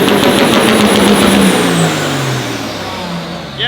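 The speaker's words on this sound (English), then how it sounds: "I guarantee you he hits the limiter right here." A 1,000 horsepower L5P Duramax diesel truck on 26-inch wheels revs hard and bounces off the rev limiter, a loud, close, sustained engine roar with a rapid stuttering cut, then a falling pitch as it eases off.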